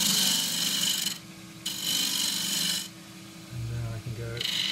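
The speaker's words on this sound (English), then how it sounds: "The first thing is to flatten off the top, 1/2 inch spindle gouge again." A 1/2 inch spindle gouge flattens the top of a cross-grain forest sheoak box on a lathe. Bursts of rasping, shearing cut noise alternate with quieter spinning hum as the tool goes on and off the wood.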